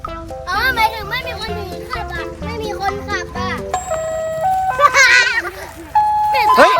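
A jingle from an ice cream truck with no driver, a bright melodic tune that plays steadily and clearly while children talk excitedly over it.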